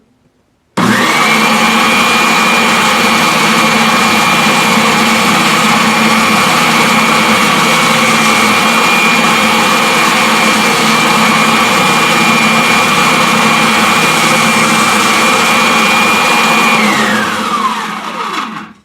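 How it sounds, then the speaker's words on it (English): A power sander smoothing a curved wooden leg cut from crown molding runs loud and steady for about sixteen seconds, a high whine over a broad grinding roar that starts abruptly and winds down at the end. "the sander straightens our line out for us, straightens our curve out for us"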